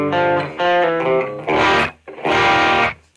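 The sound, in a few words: electric guitar with overdrive pedal on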